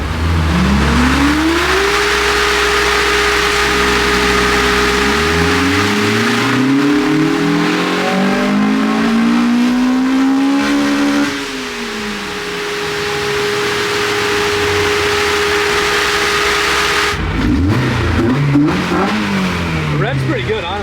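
A car engine revs up and holds, rising and falling in pitch several times, loud and close, with a steady whine underneath and a sharper burst of revs near the end.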